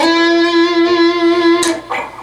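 Electric guitar sustaining a bright note with vibrato in a riff, loud and close, followed by a pick attack and a shorter note near the end.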